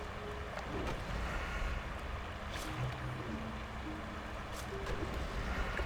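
Rushing waterfall in World of Warcraft Classic, a steady broadband roar of falling water with faint tonal game sounds layered over it, heard from inside a cave behind the falls; no voices.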